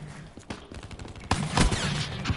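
Automatic fire from a Dingo gun in a video game, a rapid clattering burst of shots that grows louder and denser toward the end, close and harsh.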